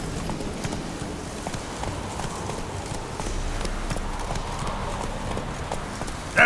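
Roach the horse's hooves beat a steady, moderately loud clip-clop at an even pace, with a faint background hum and no talk.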